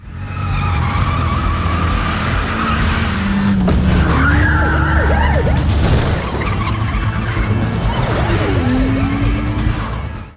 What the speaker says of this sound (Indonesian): langsung menggaspol mobil dan mencoba untuk menghentikan pesawat itu